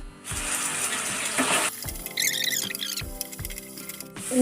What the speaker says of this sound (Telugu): ఇప్పుడు మనం వీటిని వేపుకుందాం.